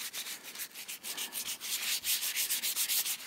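Rust is rubbed off an old Stanley metal chisel, giving rapid rhythmic scrubbing strokes that rise and fall in quick succession, close and fairly quiet, with no voices.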